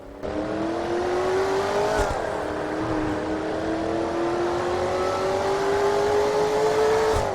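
A steady, loud race car engine in the racing game Total Immersion Racing drones throughout, its pitch slowly climbing with brief shifts, like a game car accelerating through gears.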